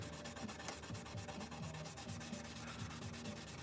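Sandpaper of 400 grit rubbing back and forth on a guitar fretboard, a close, continuous scratchy hiss with quick rhythmic strokes and no talking.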